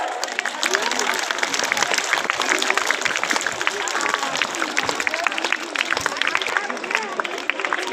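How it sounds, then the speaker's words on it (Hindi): A school audience applauds loudly at a prize announcement for top-scoring students, a dense, continuous clatter of many hands clapping that holds steady for several seconds with some indistinct crowd noise mixed in. "जोरदार तालियां"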